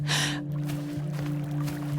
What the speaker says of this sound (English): it's really, really cold. So much so, it's making me gasp.